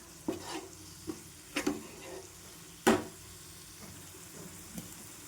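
Onions and fenugreek roasting in oil in a pan for a Maharashtrian dal and onion dish, a soft sizzle punctuated by a handful of scraping stirs and knocks of the spatula, fairly quiet with no talk.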